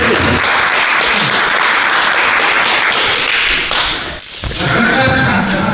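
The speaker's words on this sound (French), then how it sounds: "On peut t'applaudir." Steady applause from a group at a self-defence training workshop, dense clapping throughout with a brief dip near the end before resuming loudly.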